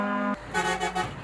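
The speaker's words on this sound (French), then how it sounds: "Les routiers égyptiens klaxonnent en signe de célébration." Horns of Egyptian aid trucks returning from Gaza blare in celebration, one long steady honk followed by a few shorter toots, fairly distant.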